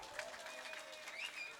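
An audience claps for a young performer at a village temple drama night for Mandu Kaliamman in N. Paraipatti. The steady, brief applause sounds somewhat distant, with faint voices underneath.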